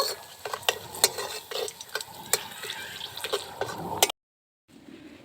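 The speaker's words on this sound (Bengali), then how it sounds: "ফোড়নটাকে একটু ভেজে নেব" Whole cinnamon, cardamom and cloves sizzle quietly in hot oil while a spoon scrapes and taps the pan in a steady rhythm, then a brief silence.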